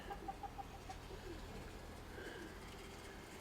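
Soft cooing from a small flock of pigeons with a few short calls early on, heard faintly against a steady low background hum.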